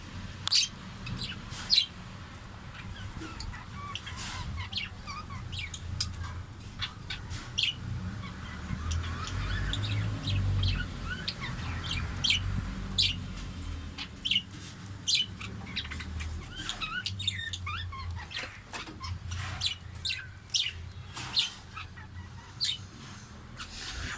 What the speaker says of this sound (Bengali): তারপর দেখতে পাচ্ছেন পাখিদের কিচিরমিচির ডাক।